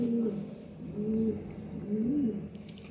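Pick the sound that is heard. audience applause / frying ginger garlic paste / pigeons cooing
pigeons cooing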